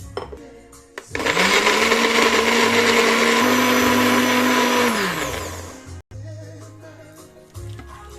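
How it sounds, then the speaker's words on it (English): A loud blender whirs steadily for about four seconds blending peppers with water, its motor revving up sharply and then winding down to a stop. "you send it to your blender, then you add water and blend"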